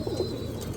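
Roller pigeons coo softly inside a loft, a brief low murmuring call heard alone.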